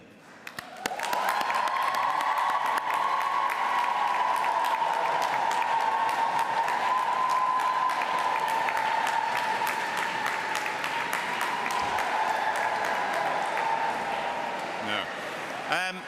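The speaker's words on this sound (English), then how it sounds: "please applaud them in return" Graduates in Canterbury Cathedral clap for their supporters, a broad, sustained wash of crowd applause that swells in and continues at even loudness for about fifteen seconds, blurred by the reverberant space, with a steady tone underneath.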